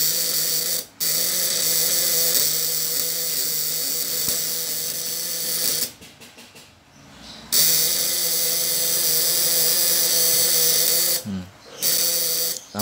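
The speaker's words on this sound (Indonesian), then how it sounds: "Getarannya platina stabil banget ya, nggak liar, nggak apa, anteng banget" A platinum-point contact breaker in a 24V, 1000W fish-stunner system buzzes with a steady, even vibration. The sound is loud and continuous, with two brief dropouts.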